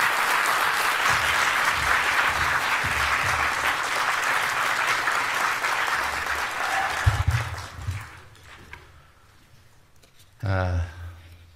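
Loud, sustained applause from an audience at a dinner reception with Korean expatriates, lasting about seven seconds, then tapering into scattered claps, followed by a brief burst of voice near the end.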